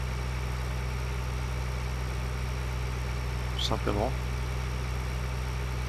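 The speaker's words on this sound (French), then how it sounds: "C'est la nouvelle moissonneuse batteuse" A combine harvester's engine idles with a steady low drone in Farming Simulator 2013, while someone briefly speaks over it.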